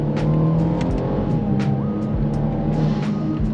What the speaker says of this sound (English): a burble tune, downshift.